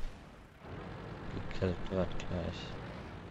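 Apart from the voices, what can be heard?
artillery fire in video game World of Tanks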